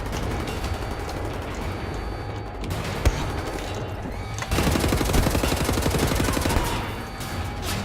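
Automatic assault rifle fire in the shooter game Wolfenstein: The New Order, dense rapid bursts rattling on and off at close range, swelling to a heavier sustained volley partway through.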